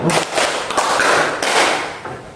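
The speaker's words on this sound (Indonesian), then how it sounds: "Tepuk 5 kali" A classroom group claps hands together in a clapping exercise, loud and near, with several sharp, overlapping bursts of claps close together and no speech over them.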